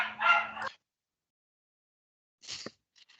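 A dog at a municipal council meeting gives two barks separated by about two seconds of silence: a longer, full-bodied one, then a short sharp one with a faint tail.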